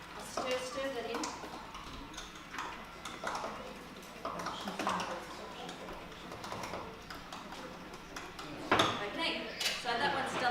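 A spoon stirs salted caramel in a pan, giving light scraping taps and clinks of utensil on metal, intermittent and close, under steady talking.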